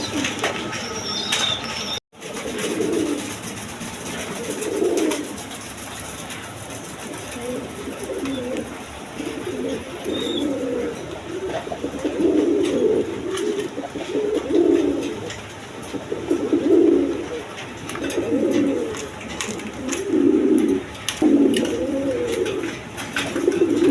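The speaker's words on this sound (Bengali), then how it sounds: "এখানে এক পেয়ার আপনার রাজগোল্লা কবুতর আছে" A pair of Rajgolla pigeons coos in repeated low, rounded phrases at a farm, the calls recurring at a steady rhythm over a background hum, with a brief wing flutter early on.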